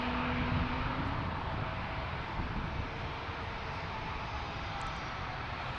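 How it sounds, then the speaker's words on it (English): A JetBlue jet airliner departing for Boston gives a steady distant roar of engines, broad and rumbling, holding level throughout with no voices. "we have a Boston JetBlue departure"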